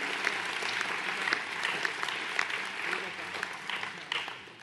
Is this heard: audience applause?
yes